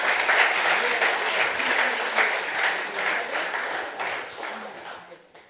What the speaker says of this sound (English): I want to ask for a bigger round of applause for all the awardees, each and every one of them.